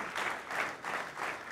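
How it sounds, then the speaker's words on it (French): Worshippers in a church clapping in a steady rhythmic pulse, about four even swells of group clapping in under two seconds, moderately loud and without talk. "Acclame le Seigneur très fort."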